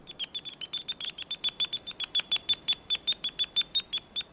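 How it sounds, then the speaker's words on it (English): A bat detector renders bat echolocation calls as a fast, steady train of sharp clicking chirps, about five or six per second, close and clear with no talking. "we do this with the help of a bat detector, which is a device that converts high-pitched calls into sounds that we can hear."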